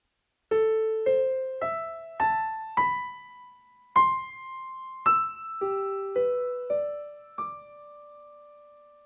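Piano plays two bars very slowly, clear single notes and small chords struck one by one at an even, unhurried pace, each ringing and decaying before the next, close and alone.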